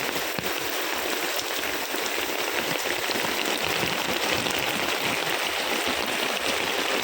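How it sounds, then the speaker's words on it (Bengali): Dense, steady heavy rain pours down beside an outdoor wood-fired stove, a constant close hiss of drops hitting surfaces with no pauses. "তো বন্ধুরা প্রচুর বৃষ্টি"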